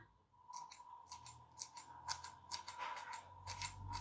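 A pair of scissors makes a quick series of close, crisp snips while peanut crackers (peyek kacang) are being prepared, with no talk.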